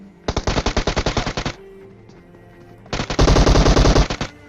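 Two long bursts of rapid automatic gunfire from a battle royale video game, each a tight rhythmic string of loud, close shots with a short pause between, and the second burst heavier and denser; no talk.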